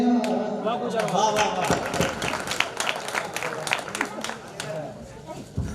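Thin, scattered applause from a kavi sammelan poetry-recital audience, a modest patter of hands that rises and falls over several seconds, with a voice talking over it.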